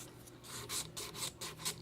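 A fine washable file rubs across an acrylic nail in quick, close, soft rasping strokes, about six of them in an even back-and-forth rhythm.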